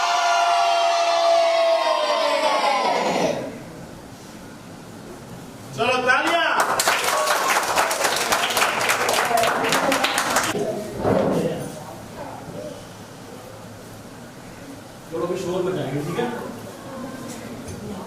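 Children at a Smile Foundation gathering break into a burst of lively clapping and cheering after a sustained shout fades, then quieter chatter, short bursts of noise and voices follow.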